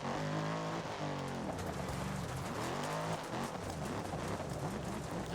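A 600-horsepower rally car in the Dirt Rally 2.0 video game revs hard, its engine note rising and falling through gear shifts with tyre noise underneath, loud and continuous.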